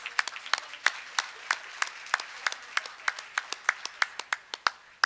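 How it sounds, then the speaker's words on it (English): A small crowd at a school board meeting claps with sharp, uneven handclaps, a lively round of applause that holds steady throughout without voices. "one more round of applause for our Science Fair and Invention Convention winners"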